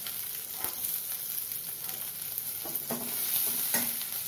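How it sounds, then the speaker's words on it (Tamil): Mustard seeds, urad dal and cumin are tempered in hot oil, a close, even crackling sizzle broken by a few sharp stirring taps, no voices. "கடுகு, உளுத்தம் பருப்பு, சீரகம் தாளிச்சுக்கலாம்."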